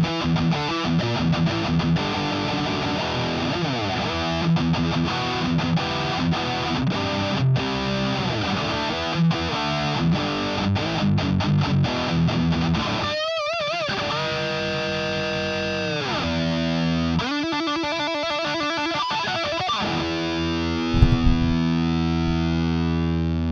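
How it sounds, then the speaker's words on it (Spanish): Heavily distorted electric guitar plays riffs and sustained chords through a virtual Soldano SLO 100 or Laney amplifier with shifting effects, loud and continuous, with a warbling modulated passage near the end. "estos son los sonidos posibles con este amplificador"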